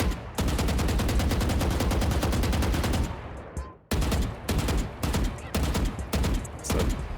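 Sustained automatic weapon spray in the video game Valorant, loud rapid gunfire filling the first three seconds, a brief pause, then several shorter bursts in quick succession, no talking.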